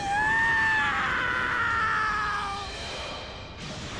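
Frieza screams in Dragon Ball Z Kakarot, one long, sustained, high-pitched cry that holds steady for several seconds before fading slightly, loud and alone.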